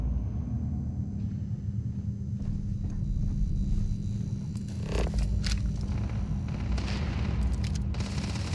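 Gunfire in the space exploration video game Starfield comes as sporadic booming shots over a low, constant rumbling game ambience, with a brief cluster of louder, sharper bursts partway through.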